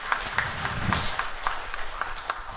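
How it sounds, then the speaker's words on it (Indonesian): Light, sparse applause for a speaker at a regional health talk show, a few hands clapping in a regular rhythm, fairly soft and close. "Boleh beri tekan tepuk tangan untuk Pak Anas tentu saja."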